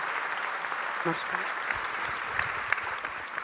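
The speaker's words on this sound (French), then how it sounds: "On va laisser passer les applaudissements" Audience applause at a French political event on drug trafficking with the president, a steady mid-level wash of clapping that lasts throughout, with a brief voice near the start.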